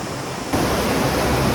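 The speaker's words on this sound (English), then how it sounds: "Literally in 30 seconds the rain started pouring" Heavy rain pouring down in Bangkok, a loud, dense, steady wash of noise that kicks in abruptly after a softer start and stays close and constant.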